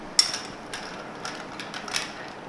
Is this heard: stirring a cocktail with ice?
yes